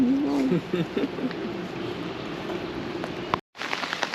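Steady broadband hiss of rain falling, continuous throughout with a brief dropout near the end, with a faint voice-like tone early on.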